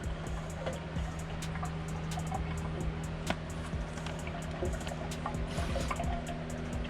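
Water drains out of a part of an old Volkswagen T5 van, a close, steady trickle and dribble with small splashes and the low hum of machinery behind it.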